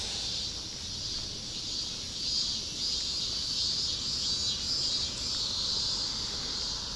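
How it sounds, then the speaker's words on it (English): Crickets and other insects chirp outdoors in a steady, shrill, continuous chorus that stays even throughout. "All this chirping is gonna be gone in a bit."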